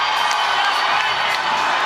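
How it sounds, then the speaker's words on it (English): A crowd fills an auditorium at the Paramount during an election night party, with loud continuous cheering and whooping and a few shouts standing out from the roar. "every so often, you hear a cheer"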